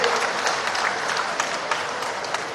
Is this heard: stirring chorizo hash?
no